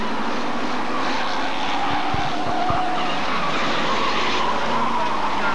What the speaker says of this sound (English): 161 Mark Eaton spins out